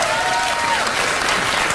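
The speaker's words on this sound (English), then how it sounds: "Why did they applaud?" A studio audience at a late-night talk show breaks into applause, a dense, loud, steady clapping from a crowd that fills the whole short moment without pause.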